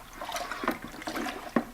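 A water and honey mix for mead is stirred and aerated, giving splashing, sloshing liquid sounds with uneven bursts and a sharper splash near the end, close and moderately loud with no talk.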